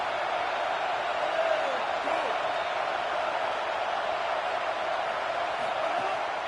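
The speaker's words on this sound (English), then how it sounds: "This crowd knows when to bring it." A football stadium crowd cheers in a continuous, dense roar that holds steady throughout without clear peaks.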